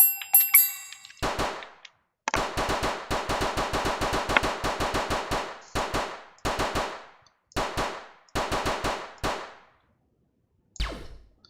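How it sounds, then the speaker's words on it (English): Rapid gunfire bursts from a platformer video game called Vidya Dash, sharp repeated shots in quick runs separated by short pauses, loud and close with no talking. "You can shoot through platforms."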